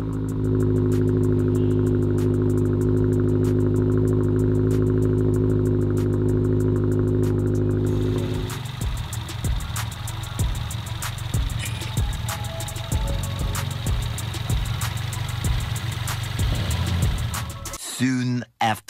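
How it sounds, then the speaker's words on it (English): A freshly built car engine on its break-in start: a steady loud whir at first, then it catches and settles into a rough, pulsing idle with rhythmic low thumps, ending abruptly. "so we're ready to start the car up regularly"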